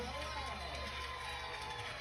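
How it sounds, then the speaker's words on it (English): A game show studio audience cheers and shouts in a steady, dense roar that holds at full level throughout, with a few voices standing out in the crowd. "And the crowd goes wild"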